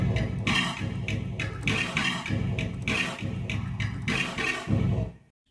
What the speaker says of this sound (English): Final drum kit sounds like this.